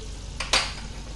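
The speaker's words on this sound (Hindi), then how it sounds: "हम ये थोड़े ड्राई फ्रूट घी में रोस्ट कर लेंगे। देखिए थोड़ा सा घी है और इसमें हमने एक काजू डाले" A cashew drops into hot ghee in a pan and gives a brief, close sizzle that quickly fades back to a low background hiss.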